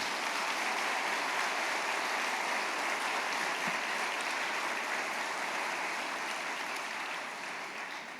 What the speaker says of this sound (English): let's give a round of applause to UAE